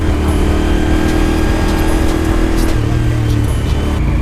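A Suzuki SV1000 motorcycle ridden through heavy traffic: a loud, steady engine drone with wind roar, the engine note shifting slightly lower partway through, with no speech.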